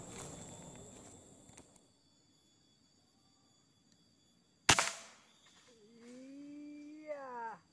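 A single sharp PCP air rifle shot cracks out mid-clip while hunting squirrels outdoors, a brief loud snap with a short tail, surrounded by quiet rustling; people begin talking afterward.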